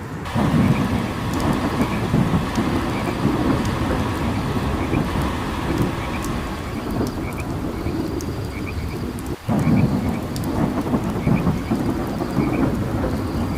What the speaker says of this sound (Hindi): तूफान रुकने वाला है